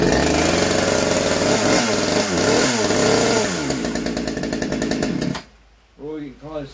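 A ported chainsaw engine runs loud and close, rising and falling through several revs before cutting off abruptly; someone speaks briefly in the quiet afterward.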